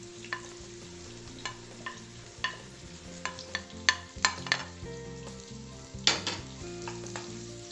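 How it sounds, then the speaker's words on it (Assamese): Onions frying in hot oil in a wok while an Assamese pork curry is prepared, with a steady sizzle and sharp spatula scrapes and clanks recurring throughout, heard under background music. "কাটি থোৱা পিঁয়াজকেইটা প্ৰথমতে অকণমান সময় ভাজি ল'ম"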